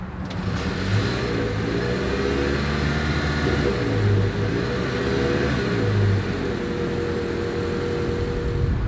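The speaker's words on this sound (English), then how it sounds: "I know it's a hybrid, so it's probably just going to be the startup, but we're going to give it a shot anyways." A 2024 Toyota Sienna hybrid minivan starts and its engine runs at the exhaust, a smooth mid-pitched hum with a few gentle rises in revs, fairly quiet and steady throughout.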